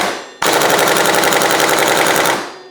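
After a brief quiet moment, a pneumatic impact wrench running at 70 psi hammers on a bicycle crank arm bolt in one loud, continuous rattling burst of about two seconds, then winds down.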